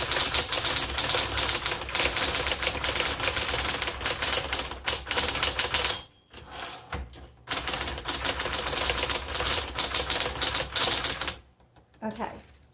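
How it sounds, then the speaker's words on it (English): Rapid, continuous keystrokes from a 1968 Smith Corona Electra 120 electric typewriter fill the clip, with a brief pause partway through before the typing resumes and then stops near the end. "I'm going to retype that line."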